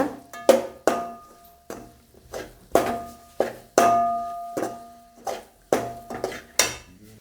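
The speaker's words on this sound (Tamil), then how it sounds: "கிளறி கொடுப்போம்ங்க" A metal spoon stirs crab curry masala in a pot, producing a steady series of ringing scrapes and clanks about once every half second, close and clear with no talking.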